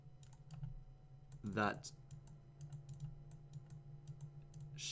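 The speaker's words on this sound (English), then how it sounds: "this typing is insane" Rapid clicking of computer-keyboard typing runs steadily throughout at moderate level, with a brief spoken word rising over it mid-clip.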